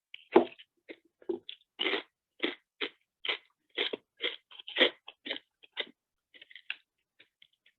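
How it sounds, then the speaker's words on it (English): Someone crunches food close up, a series of sharp, irregular bites and chews popping out of near silence over several seconds, loud at first and thinning out toward the end. "we hear you crunching."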